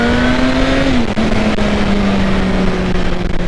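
A Suzuki GSX-S motorcycle engine accelerates hard and close, a loud sustained drone whose pitch climbs, dips briefly at a gear change, then pulls on steadily under wind noise.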